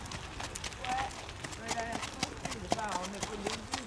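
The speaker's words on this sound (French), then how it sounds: "qu'il fasse un petit trot tranquille" A horse moves at a gentle, easy trot on a calm ride, its hooves clip-clopping in a steady rhythm close by while people talk over it.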